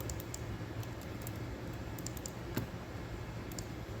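Computer keyboard typed on in a woodworking shop while program variables are changed for making mitre-folded shelves: a few sparse, close key clicks over a steady background hum.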